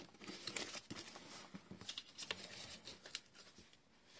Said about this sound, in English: So last thing is to fold it.